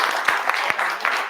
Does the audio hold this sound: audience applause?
yes